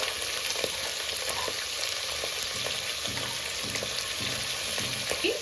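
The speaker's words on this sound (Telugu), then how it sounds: "కడిగి పెట్టుకున్న మటన్ లివర్ ఆయిల్లో వేసేసుకొని ఫ్రై చేసుకున్నాం" Mutton liver pieces frying in hot oil give a steady, dense sizzle with soft stirring scrapes throughout, close and fairly loud, with no voices.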